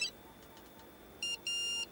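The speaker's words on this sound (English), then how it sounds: "Oh, sorry. It's my new mobile phone." A new mobile phone rings with bright electronic beeping tones, a short burst followed by a longer steady one, clear and close in a quiet room.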